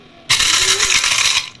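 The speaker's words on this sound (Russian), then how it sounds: "Ну, все, засыпала в кофемолку." A small stationary electric coffee grinder whirs loudly for just over a second, starting abruptly and then winding down, heard close by with no talking.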